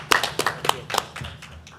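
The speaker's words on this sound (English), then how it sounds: "I think it deserves certainly a round of applause for everybody to be Apple Distinguished School" A few people at a school board meeting clap in a short, sparse round of distinct hand claps that thins out and fades within two seconds.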